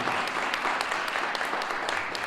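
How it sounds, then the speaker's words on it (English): An audience at a mentoring summit applauds steadily for the CEO and president of Big Brother Big Sister, a dense, continuous clapping that holds at even loudness throughout. "Please give her a round of applause."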